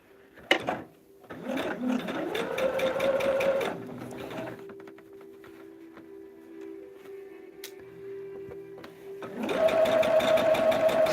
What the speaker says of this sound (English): Sewing down that solid line